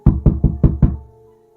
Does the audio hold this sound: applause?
no